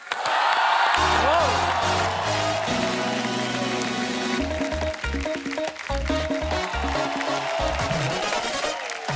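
A studio audience on The Kapil Sharma Show applauds and cheers to welcome a guest, a loud, continuous wash of clapping with music playing underneath throughout.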